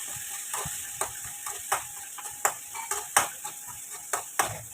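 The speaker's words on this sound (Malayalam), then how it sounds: "സബോള വഴറ്റാനായിട്ട് പാത്രത്തിൽ വെളിച്ചെണ്ണ ഒഴിച്ചിട്ട് സബോളയും പച്ചമുളകും വേപ്പിലും കൂടി ഇട്ട് കൊടുക്കുന്നത്" Onion, green chili and curry leaves sautéing in coconut oil in a pan, giving a steady close sizzle broken by sharp stirring clicks and scrapes at irregular intervals, with no talking.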